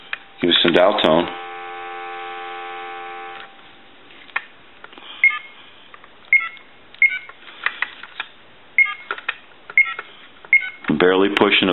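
An AT&T Speakerphone 5500 cordless telephone gives a steady dial tone after a voice, then a series of short, sharp keypad beeps spaced irregularly, with speech at the start and end.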